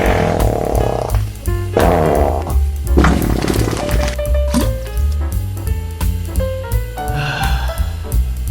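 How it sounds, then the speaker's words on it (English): Comic cartoon fart sound effects in a toilet setting, a series of wet, croaking blasts and sputters over a jazz music background, with no talking. "Make sure you use Mocha as farting sound when you need to"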